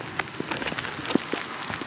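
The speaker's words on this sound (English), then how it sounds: "Let's go find some cover from the rain." Rain falls hard on a street near a cottage in a Scottish town, a close, steady patter of drops striking surfaces with scattered sharper taps.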